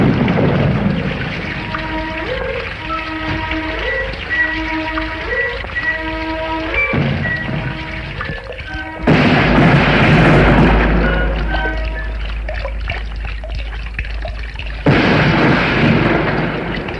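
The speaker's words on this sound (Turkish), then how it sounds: "İkimizi adam yerine koyup top atıyorlar bize." British artillery cannon fire and explosions in a 1964 war film set at Çanakkale, with heavy booms bursting loudly over a musical score, the blasts swelling into a long roaring rumble midway and another loud burst near the end.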